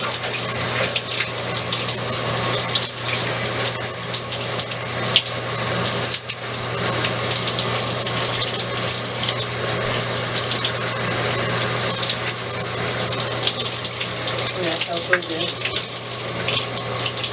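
Tap water runs steadily while hair is wetted on wash day, a continuous broad gush with a low pump-like hum beneath, fairly loud and unbroken throughout.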